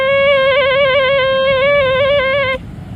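A steady FT4 digital-mode radio transmit tone with a slightly wavering pitch, rich in harmonics, plays continuously for about two and a half seconds and then cuts off, leaving faint hiss.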